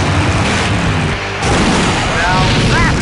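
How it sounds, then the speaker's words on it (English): A big explosion in the adventure game Full Throttle roars as a loud, dense blast of rumbling noise that fills the whole stretch, with a brief dip before the roar swells again. "Now that's an explosion, ladies and gentlemen."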